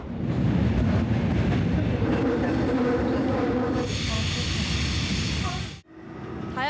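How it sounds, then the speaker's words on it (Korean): Inside a Seoul subway Line 5 carriage, a loud continuous rumble and rolling roar rise into high screeching wheel squeal, then briefly cut off before the noise resumes. "서울 지하철 5호선 열차 내 소리를 담아봤습니다."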